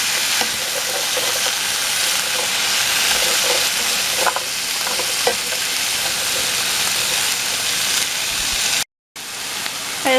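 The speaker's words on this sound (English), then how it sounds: "So we're going to stir fry this for about 6 minutes." Onions and home-garden vegetables stir-frying in a pan give a loud, steady sizzling hiss close by, running continuously with only a brief dropout near the end.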